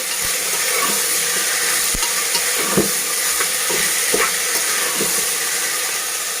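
French beans (simi) frying in a pan for a Sindhi potato curry, a steady close hiss of sizzling oil running throughout with occasional soft clicks of stirring, no voices.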